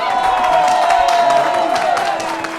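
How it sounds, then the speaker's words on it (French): A studio audience at a quiz-show taping applauds and cheers to welcome two contestants, a steady wash of clapping and crowd noise under a host's voice. "Allez, on les accueille, on les applaudit."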